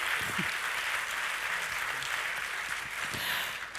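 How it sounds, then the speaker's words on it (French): Audience applause for award winners at a regional business trophies ceremony in Puy-de-Dôme, a steady dense wash of clapping filling the whole stretch at even loudness, with no voices over it. "On peut encore les applaudir"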